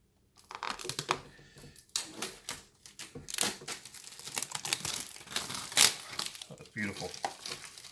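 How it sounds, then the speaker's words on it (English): Plastic wrapping being pulled off a Sonos Play:5 speaker, with close, loud crinkling and tearing bursts in irregular pulls across the whole stretch. "Let me take the wrapping off the sides."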